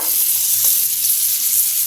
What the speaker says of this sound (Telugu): ఈ పచ్చి పల్లీలు ఇలా మసులుతున్న ఆయిల్లో వేసి డీప్ ఫ్రై చేయడమే